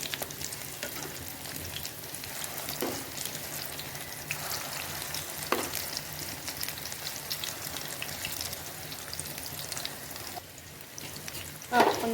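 Potato and rice flour tikkis fry in a pan with a steady crackling sizzle, fairly quiet and close, with a few clicks of turning near the end.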